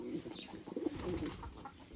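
Pigeons coo softly in low, throaty bursts, faint and close, with a few light chirps mixed in around a pigeon loft.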